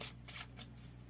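Tarot cards are shuffled and handled in quiet, brief riffling bursts, three or four soft rustles close by with a low hum underneath.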